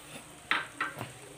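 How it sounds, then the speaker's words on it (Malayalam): Butter chicken masala with pepper powder and coriander leaves being stirred in a pan: three short, close scraping strokes with a light sizzle underneath, alone and quiet. "ഇതെല്ലാം കൂടെ ഒന്ന് ഇതിൻ്റെ പച്ചച്ചോയ മാറുന്നത് വരെ ഒന്ന് ഇളക്കിയെടുക്കുക"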